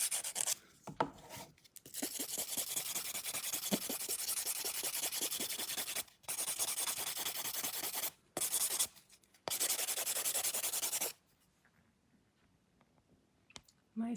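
Rhythmic rasping strokes of a file working a fingernail during a watercolor marble nail-art session, close and steady in long runs broken by short pauses.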